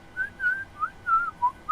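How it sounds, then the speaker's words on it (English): A whistle sound effect from a soundboard plays as a run of short, clear, tuneful whistled notes, fairly loud and alone. "I've got to find a whistle soundboard now."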